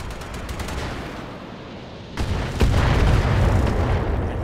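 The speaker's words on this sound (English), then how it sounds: "He returns fire at the urban mech." Mech firing weapons at an Urban Mech in a BattleTech-style video game, a dense rumbling barrage of booms and bursts that swells louder halfway through.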